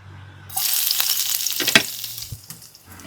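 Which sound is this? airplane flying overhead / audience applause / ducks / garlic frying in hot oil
garlic frying in hot oil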